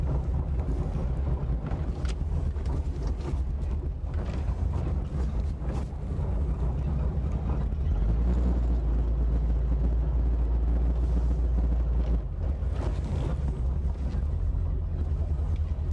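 A Rinker 262 Captiva open bowrider running on the water, its steady low engine drone continuous throughout, mixed with wind buffeting the microphone and water noise.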